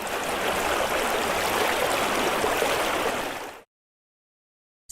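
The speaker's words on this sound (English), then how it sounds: "the water flowing in a river" Water flowing in a river, a steady broadband rushing and gurgling that holds constant for about three and a half seconds, then cuts off abruptly into silence.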